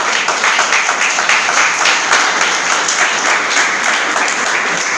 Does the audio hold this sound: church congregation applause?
yes